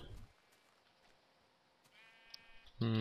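A sheep bleats in Minecraft, one brief harmonic call near the middle and a louder burst at the end, over a quiet game background.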